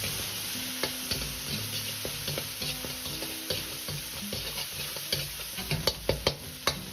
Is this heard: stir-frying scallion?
yes